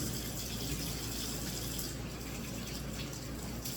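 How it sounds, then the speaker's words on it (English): A kitchen tap runs in a steady, close rush of water while hands are washed mid-way through chopping an onion, with no talking over the continuous flow. "I'm gonna wash my hands quick."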